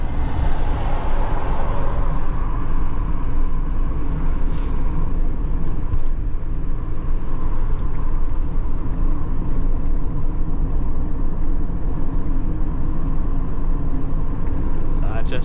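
Tesco delivery van driving on a 40 mph road, a steady loud engine and road rumble throughout with no clear rise in pitch.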